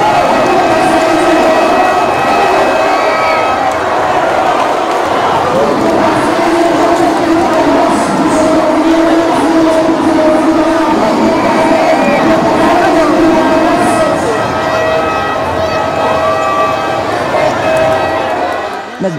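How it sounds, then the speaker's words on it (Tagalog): A packed crowd at a basketball championship game roars and cheers loudly without pause, a dense wall of shouting voices that surges at moments, with whistles and calls cutting through. "Sobrang lakas ng mga sigawan."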